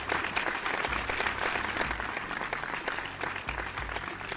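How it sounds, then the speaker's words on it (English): Sustained audience applause at a short film festival for the winning family film entry, a dense steady wash of many hands clapping throughout with scattered sharper claps and a faint undertone of crowd noise. "Big round of applause for the Hawkins family for their Joshua and the Great Wall short film, our winner tonight."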